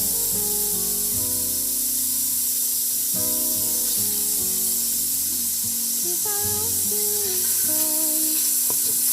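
Garlic hits a hot pan while pancit lomi is cooked, setting off a loud, continuous sizzle. The spitting hiss stays steady throughout over a low tonal hum.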